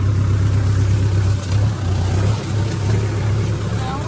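Tractor engine labouring while pulling a heavily loaded trolley, a loud continuous low throb with slight dips in pitch as the load shifts.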